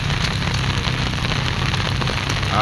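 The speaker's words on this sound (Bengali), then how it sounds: "অনেক বেশি বৃষ্টি শুরু হচ্ছে" Heavy rain pours steadily outside a school exam centre in Mahanpur, a dense, continuous hiss of drops on surfaces, loud and unbroken throughout with no voices.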